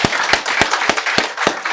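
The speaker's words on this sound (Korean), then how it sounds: "우리 회중께서는 박수 한번 해주십시오." A church congregation applauds during a Sunday service, loud and close, with sharp, evenly spaced claps, a steady rhythm of group clapping and no talking.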